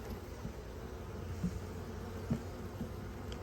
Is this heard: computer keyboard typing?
no